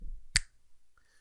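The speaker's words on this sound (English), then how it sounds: "I'll do my snappy snaps." A single crisp finger snap, close and sharp, followed by near silence.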